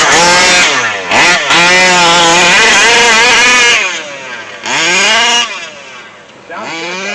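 A King Motor Baja 5B RC car with a 30DN 38cc two-stroke engine and an Olimat pipe screams loud and close. Its buzzing whine climbs and drops through several sharp revs, with brief cut-outs between bursts.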